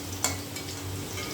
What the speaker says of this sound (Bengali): আলুটা ভাজা হয়েই গেছে, এবার তুলে নেব,